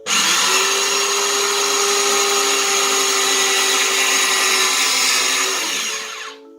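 An electric grater shreds zucchini for a chocolate cake, running as a loud, steady, close motor whine for about six seconds before spinning down.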